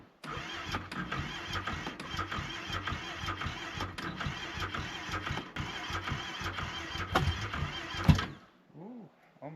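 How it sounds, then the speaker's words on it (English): An ATV engine is cranked in Alaska winter cold, a labored, rhythmic churning grind that runs for several seconds before cutting off abruptly, followed by faint quieter sounds. "I'm gonna go ahead and go see if this ATV starts"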